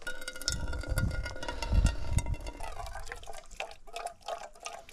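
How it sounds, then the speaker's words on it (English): Water trickles and drips through a makeshift filter into a pan outdoors in the wild, a close, steady patter of small splashes with irregular drops. "It will then continue to filter the water down into this pan."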